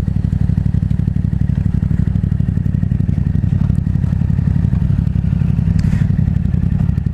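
A 2016 Yamaha FZ-07 (MT-07) fitted with a Two Brothers full exhaust system runs steadily while riding, its deep, pulsing engine note thrumming loudly and continuously with slight wind and road clatter.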